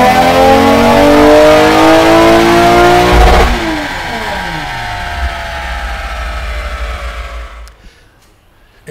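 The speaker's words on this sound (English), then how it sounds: "And let's actually do some dyno runs." A Toyota 2GR-FE engine revs hard on a dyno, its loud roar climbing steadily in pitch, then the throttle snaps shut and the sound winds down through a falling tone into quiet near the end.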